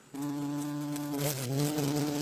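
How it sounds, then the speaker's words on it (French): Bees buzz in a steady, continuous drone that starts abruptly and holds with a slight waver in pitch, close and even throughout with no voices. "il essaya de copier le bourdonnement doux et mélodieux des abeilles"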